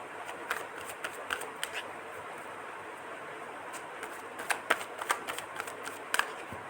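Tarot cards being shuffled, a soft rapid riffling with small clicks coming in short clusters, faint and close against a steady background hiss.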